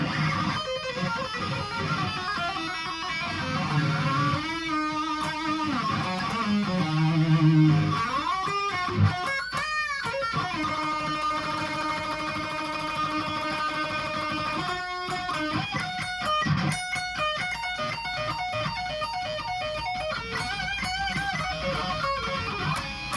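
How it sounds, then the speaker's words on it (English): A distorted electric guitar solo from a song plays on its own, with fast runs, bends and sustained high notes, loud and close throughout. "and then the solo sounds something like this."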